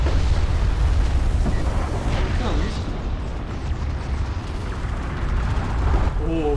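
Railgun barrage explosions in the strategy game Homeworld: Deserts of Kharak roll out as a dense, sustained rumble of booms and bursts, loud and continuous, with a commentator's voice over the top.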